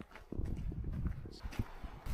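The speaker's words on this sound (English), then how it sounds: "All the ponies and cows are coming together for their evening meander down to the hill" Ponies and cows amble down an Exmoor hillside at evening, giving soft irregular hoof clops and footfalls close by, with a low rumble of wind or handling noise underneath.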